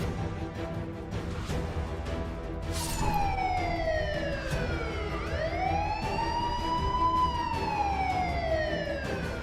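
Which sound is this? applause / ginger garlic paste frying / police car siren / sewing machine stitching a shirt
police car siren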